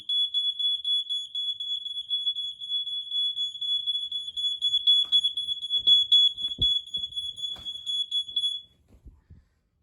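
A smoke alarm being tested shrieks in a continuous piercing high tone for several seconds, with faint thumps and shuffling beneath, then abruptly stops.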